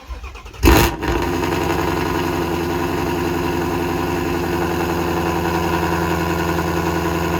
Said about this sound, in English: Let's go ahead and throw up a cold start of the car when it's super cold.